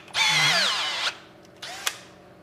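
Power drill fitted with a bit spinning up, heard up close during taxidermy work on a walleye mount: a rising-then-falling high whine for about a second, followed by a shorter second burst.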